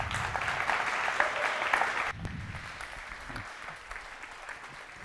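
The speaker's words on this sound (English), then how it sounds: "Let's give them a warm applause" Applause from a dinner audience for panelists at an AI and ethics summit. The clapping is dense and fairly loud for about two seconds, then fades to lighter scattered claps.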